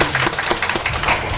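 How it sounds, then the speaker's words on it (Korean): A church congregation at a Sunday worship service applauds together, a short burst of dense clapping from a large room with no speech over it. "다시 한번 우리 하나님께 우리 큰 영광과 감사의 박수 힘차게 올려드립니다."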